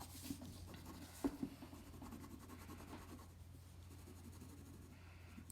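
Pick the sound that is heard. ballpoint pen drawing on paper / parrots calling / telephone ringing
ballpoint pen drawing on paper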